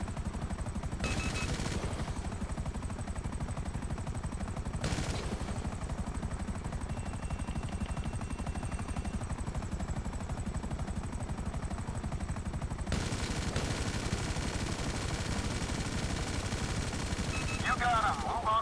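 A Buzzard helicopter's machine gun firing in a video game, loud rapid bursts rattling over the steady whir of rotors, with breaks between volleys across nearly twenty seconds.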